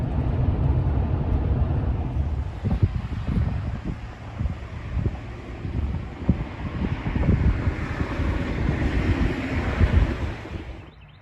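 Wind gusts over open ground by Slocum Creek Park near the Neuse River in Havelock, North Carolina, a steady rushing roar with buffeting thumps against the microphone throughout.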